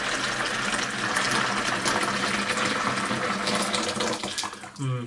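Water pours steadily into a kettle in a continuous rushing splash, close by, ending with a brief clatter.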